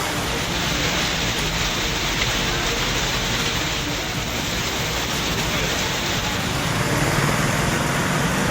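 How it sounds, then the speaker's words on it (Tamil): Heavy rain pours down in Sankarankovil, Tenkasi district, a dense, loud, unbroken hiss of downpour that runs steadily throughout. "தென்காசி மாவட்டம் சங்கரன் கோவிலில் கொட்டி தீர்த்த கனமழை"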